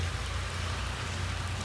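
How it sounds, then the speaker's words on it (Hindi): Steady rain pours down in a village in a continuous hiss, with a low hum underneath and no voices. "बारिश लगी हुई है, ये काफ़ी टाइम से लगी हुई है।"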